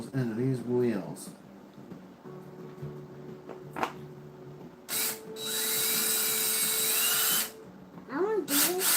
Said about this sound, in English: we're going to use this drill set to 2 to drive these screws into these wheels